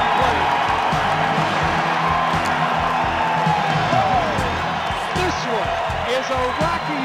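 A baseball crowd at Coors Field on opening day roars steadily for a walk-off two-run homer by the Rockies in the bottom of the ninth, the dense cheering and scattered whoops sustained throughout, with a broadcaster's voice over it.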